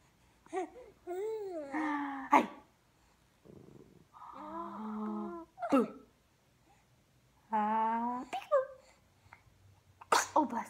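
A small animal gives several short sneezy snorts and squeaky chirps, spaced apart with quiet gaps between, close and fairly loud.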